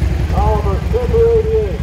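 A 1955 Oliver Super 88 tractor rolls along in a farm club parade, its engine a steady, low rhythmic thumping beneath a voice talking over it.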